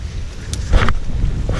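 Breezy wind gusts buffet the microphone outdoors beside a silt pond, a steady low rumble with a louder swell in the middle, heard alone without talk.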